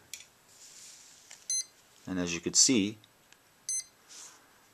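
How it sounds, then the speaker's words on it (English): An RC motor gives short electronic beeps when its ESC is powered by a 3S LiPo. Several brief, sharp tones are spread across the moment with quiet gaps between them, and someone talks briefly in the middle. "you're going to get your beeps from your motor"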